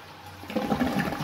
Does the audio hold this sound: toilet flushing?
yes